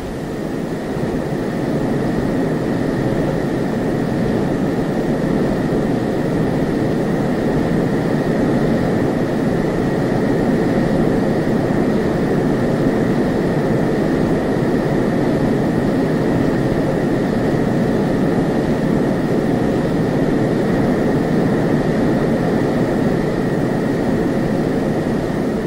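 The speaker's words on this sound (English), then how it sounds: "the F-102A weapon system can climb rapidly to combat altitudes in excess of" F-102A interceptor jet aircraft climbing, a loud, continuous engine roar with a steady whine, unbroken and with no voices.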